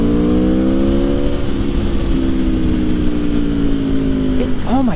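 A 2021 Aprilia Tuono V4 Factory motorcycle engine revs loudly and steadily up close, its pitch holding high before dropping and snapping back up in quick blips at the end.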